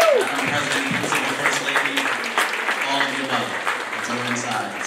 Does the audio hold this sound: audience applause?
yes